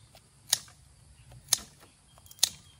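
Cashew nut tree wood is cut with three crisp, sharp snaps spaced about a second apart, each short and distinct against a quiet background with no talk.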